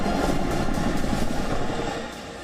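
Chinook heavy-lift helicopter in flight, a steady, dense rotor and engine roar that stays loud throughout and eases slightly toward the end, with no voices.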